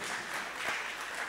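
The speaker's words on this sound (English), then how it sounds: "Give yourselves a round of applause." Soft, distant audience clapping after a talk on work-life balance, a brief steady patter with no voices over it.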